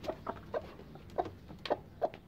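Desi and other hens freshly let out on a farm, giving a series of short, moderately close clucks spaced irregularly over a low background murmur, with no talking.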